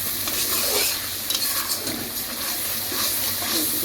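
Spice paste with fish sizzles in hot oil with the water cooked off, a loud continuous frying hiss broken by scraping stirs of a spoon in the pan.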